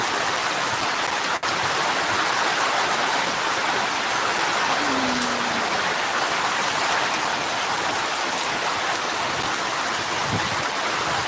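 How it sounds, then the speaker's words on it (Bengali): Heavy rain in a storm, steady and dense, roaring without a break, a broad wash of water noise with no voices, heavy and close throughout. "আমাদের এদিকে আজকে প্রচণ্ড বৃষ্টি বর্তমান রানিং চলতেছে"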